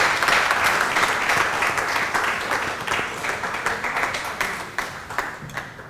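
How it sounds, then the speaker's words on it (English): At a World Environment Day panel event, an audience applauds a man invited on stage for an award, with loud, dense clapping at first that gradually thins into scattered individual claps. "Can we have a roaring round of applause for Mr. Sagar Puranik?"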